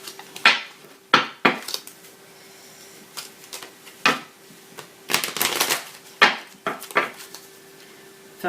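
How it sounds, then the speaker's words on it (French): Spoon stirring in a bowl, a series of sharp scraping clinks arriving in uneven bursts with short pauses between them, close and fairly loud with no talking over it. "Faire un peu de bruit hein, quand je mélange. Quand je touille."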